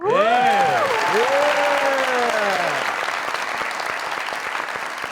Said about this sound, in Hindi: खूबसूरत तरीन तालियां